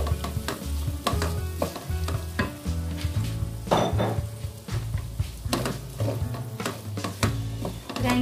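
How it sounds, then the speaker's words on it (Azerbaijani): Pomegranate seeds and browned onions frying in a pan, heard as a close, steady sizzle broken by repeated scrapes and knocks of a utensil against the pan. "Biraz narı da soğan çayla qovururuq."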